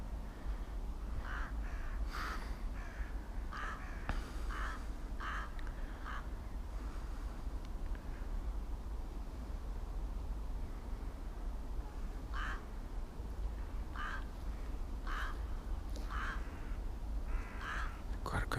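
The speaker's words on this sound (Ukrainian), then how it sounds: "ворони." Crows or rooks caw repeatedly in short bursts of two or three calls, moderately distant, over a constant low outdoor rumble with faint murmuring, in Kyiv's Vynohradar district in winter.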